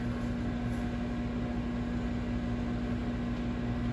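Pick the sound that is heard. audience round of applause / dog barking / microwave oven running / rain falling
microwave oven running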